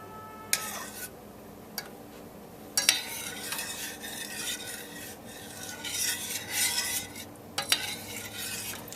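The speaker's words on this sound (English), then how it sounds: "since we have a little bit of milk in here, we want to make sure we stir it just to keep it going" A spoon stirs a milk sauce in a pan, scraping the bottom in bursts of close, rasping strokes with short pauses between them, and a soft simmer sits underneath. No one talks.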